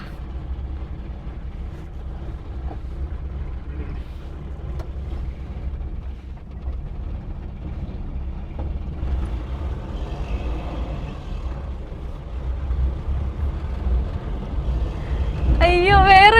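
Petrol Mitsubishi Pajero engine idling, a steady low rumble that swells slightly toward the end, with brief chirping near the close.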